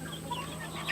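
A wet rooster makes faint, brief clucking sounds close by over a steady background hum, with a slightly louder call near the end.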